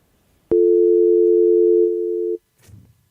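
A telephone busy or dial tone sounds loud and close as one steady, unbroken beep about two seconds long, starting abruptly after a click and followed by a brief faint rustle.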